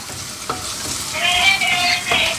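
Onion masala for egg curry sautéing in a pan, a steady close sizzle with a spoon scraping and stirring through it, a couple of sharp clinks, and a brighter hiss swelling in the second half.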